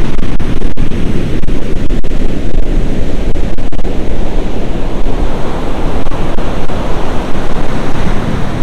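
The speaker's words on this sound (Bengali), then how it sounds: "ঢেউ দেখুন শুধু" Ocean waves crash and break over rocks on a South Goa beach in a loud, continuous roar. Heavy wind buffets the microphone throughout. No one speaks.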